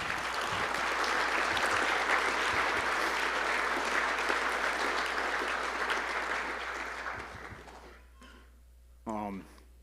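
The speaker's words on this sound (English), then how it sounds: "why don't you guys give yourself a round of applause here for that" An audience at a university football banquet gives a full round of applause that stays strong for several seconds, then fades away, with a voice speaking briefly afterward.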